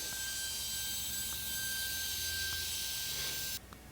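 A router with a chamfer bit trims the edge of an end-grain wooden cutting board, a steady high whine with a constant bright tone that stops abruptly near the end.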